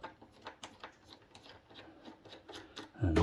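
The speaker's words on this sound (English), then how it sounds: "anywhere I see screws, we're just going to try and remove them now" Screws being removed from an Apple iMac during a teardown: close, repeated small scraping and rasping turns of a screwdriver in a steady rhythm, ending in a louder clunk.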